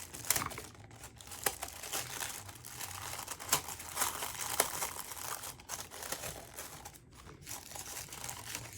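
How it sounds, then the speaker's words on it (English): Sheet of paper laid over a cup held with a rubber band, crinkling and rustling steadily up close with a few sharper crackles, no talk. "I'm just going to lay the paper over the rubber band, or over the cup."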